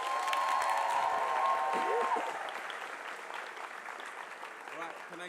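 Audience applause at a student conference after an open mic performance: dense clapping that holds steady for about two seconds, then thins and fades, with a few voices coming through near the end.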